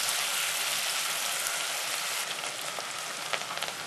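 Bacon fries in a pot as the base for a Brussels butter bean soup. A steady, close hiss of sizzling fat continues throughout, with a few small pops near the end and no talking.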